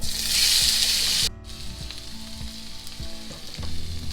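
Vegetables fry in a pan for chili, with a loud, bright sizzle for the first second or so that suddenly drops to a quieter crackle, and low clunks of stirring continue throughout.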